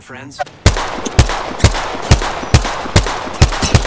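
Gunfire in Apex Legends: after a brief spoken word, a rapid sequence of about eight sharp, loud gunshots crack out at an even rhythm, each followed by a short rumbling tail.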